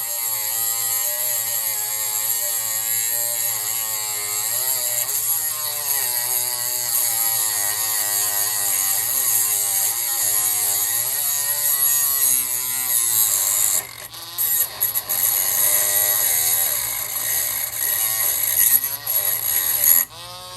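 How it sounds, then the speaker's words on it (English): A Dremel rotary tool whines loudly and continuously while cutting through a clamp on a leaking power steering cooler line of an Integra GSR, its pitch wavering under load before a few short pauses near the end. "Just take the Dremel to it and see if we can get that off of there."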